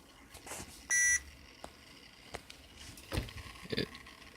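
A short electronic beep from a Traxxas Rustler RC car rings out once, high and clear, amid quiet clicks and light handling noises in a calm indoor setting.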